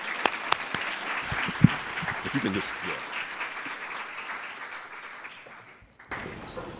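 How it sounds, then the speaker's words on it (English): Audience applause after a talk on the color of law, with a full round of clapping that fades out near the end as a voice speaks briefly over it, followed by a short renewed burst. "This is another round of applause for, yeah."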